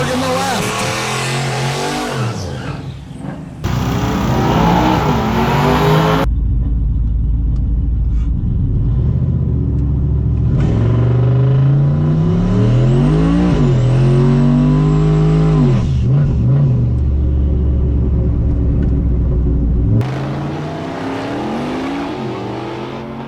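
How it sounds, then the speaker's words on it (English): Street-class trucks at an all-truck drag race in Newport, Arkansas, roar loud and close as they rev and accelerate down the strip in long, rising engine pulls. An announcer talks over the noise. "Clifton Jones coming up next in the right lane. Ryan Berg in the left"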